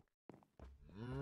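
A Minecraft cow moos in a long, loud, drawn-out call that rises toward the end, preceded by a few short scattered game sounds.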